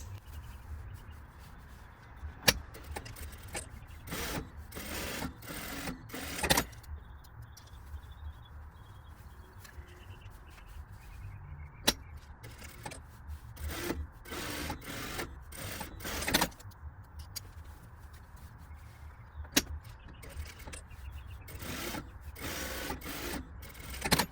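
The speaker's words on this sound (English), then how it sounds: "now that we have our pockets sewn together with our top stitch" Domestic sewing machine top stitching the pockets of a circle skirt, running in repeated bursts of rapid mechanical whirring separated by short pauses, close and steady with no talk.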